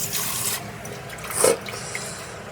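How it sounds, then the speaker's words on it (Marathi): Peeled prawns are washed in a bowl of clean water, making soft swishing and sloshing, and a brief splash comes midway as water is poured off; no talking. "नीट पाणी मच्छी आपण वॉश करून घेतो. घाण पाणी आपण डायरेक्ट बेसिनमध्ये टाकतोय."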